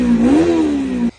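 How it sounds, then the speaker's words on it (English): A 1995 ZX7 street motorcycle engine revs hard, one sustained throttle blip with a rising then steady pitch, loud and close, then cuts off abruptly. "my outro, the bike that's revving"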